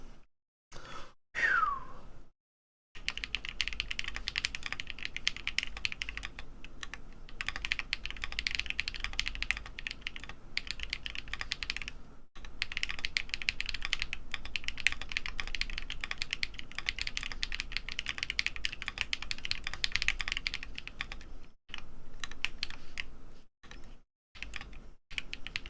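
Rapid continuous typing on a Neo Ergo mechanical keyboard with an FR4 plate, close and crisp keystrokes in a steady clatter with short pauses, no talking.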